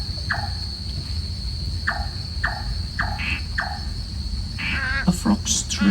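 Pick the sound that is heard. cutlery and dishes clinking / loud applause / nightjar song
nightjar song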